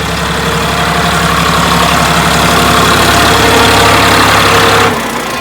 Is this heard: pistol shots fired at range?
no